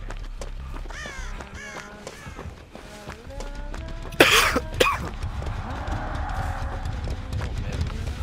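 A man coughs sharply twice in quick succession, close and loud, amid game sounds and chatter during an online multiplayer session.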